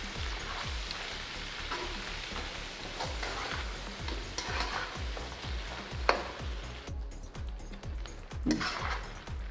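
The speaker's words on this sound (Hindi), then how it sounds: "और अब हम इसमें डाल देंगे गोश्त, इसको हमने अच्छे से भून लेना है।" Continuous sizzling and frying of meat stirred over high flame in a pot for a white pulao, a steady crackle with stirring scrapes and occasional clinks of a utensil, no talking.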